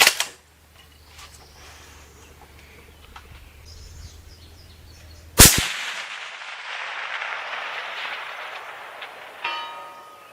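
A Sako S20 7mm Mag rifle loaded with Remington Core-Lokt hunting ammo fires a single sharp, loud shot at long range outdoors, followed by a lingering rolling echo and then a faint distant report.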